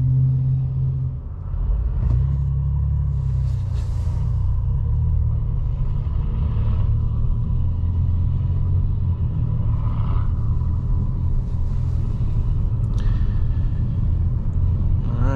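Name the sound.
Alfa Romeo Tonale plug-in hybrid car pulling away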